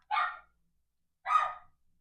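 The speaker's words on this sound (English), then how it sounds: "She's just barking so much at a fly." A dog barks at a fly indoors, two sharp single barks about a second apart, close and fairly loud with silence between them.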